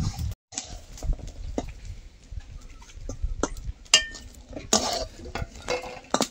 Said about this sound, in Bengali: রসুনটা ভাজতে ভাজতে সুন্দর একটা গন্ধ বেরোবে আর গায়ে হালকা লালচে লালচে দাগ লাগবে, সেরকম ভাবে রসুনটা ভাজবে।